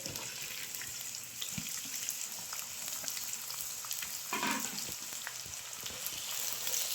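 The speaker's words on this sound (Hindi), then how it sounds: "जब हमारा ऑयल गर्म हो जाए तो हम इसमें डालेंगे ये कटी हुई प्याज।" Chopped onions fry in hot mustard oil in a kadai, giving a steady, soft, close sizzle throughout with occasional light clicks of stirring and no talk.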